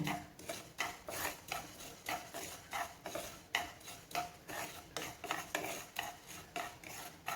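Rhythmic scraping and stirring in a pan, a spoon sweeping through roasting mustard seeds in regular strokes, close and fairly quiet.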